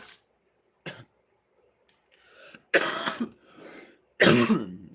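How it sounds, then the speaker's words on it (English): Several harsh coughs and throat-clearing bursts, close and loud, separated by short pauses and heavy breaths. "Can't stop coughing, bro."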